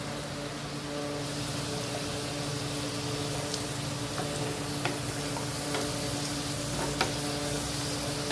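Potatoes frying hard over a high gas flame with a pinch of salt, a dense, steady close sizzle with occasional small ticks and pops, continuous throughout with no talking.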